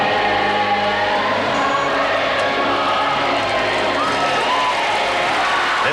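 Arena crowd of about 17,000 at the Capitol Centre during a 1982 professional skating show, a dense steady wash of applause and cheering filling the whole stretch without letting up.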